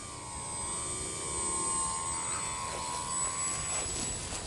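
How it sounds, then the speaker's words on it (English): A small radio-controlled model airplane comes in to land outdoors, its electric motor giving a steady high whine that drifts in pitch and holds at moderate loudness throughout, with no talking. "And that's how you land the plane."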